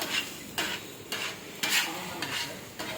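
Kothu parotta being stirred and mixed on a griddle at a roadside shop produces about six distinct scraping, clattering strokes in quick succession over a faint sizzle, heard close up.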